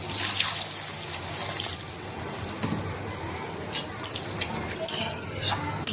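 Water poured into a pan of fried-down spiced masala while cooking lentil bharta, giving a close sizzle and bubbling hiss with stirring and light utensil clinks throughout.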